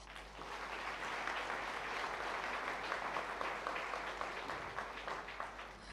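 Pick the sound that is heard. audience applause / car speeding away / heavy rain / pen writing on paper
audience applause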